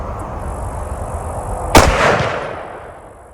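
A single sharp rifle report from a 6.5 Creedmoor firing a 124gr Hammer Hunter bullet at a feeding sow hog, with a close crack followed by a decaying boom and rumble over faint outdoor background.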